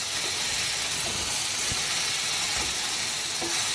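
Ridge gourd sautéing with salt in a pan, a steady broad hiss of cooking with faint scraping ticks underneath, continuous and fairly close.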